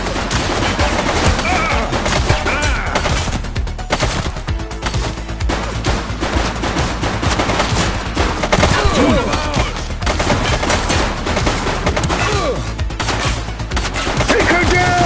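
Dense, loud gunfire in the police game The Precinct, rapid shots and bursts crackling continuously over a busy soundscape, with shouted voices breaking in now and then.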